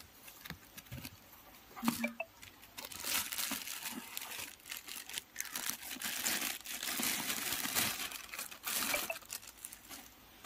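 Cardboard packaging for a budget home emergency light is pulled open and handled up close, with irregular crinkling, rustling and tearing scrapes in quick bursts and short pauses.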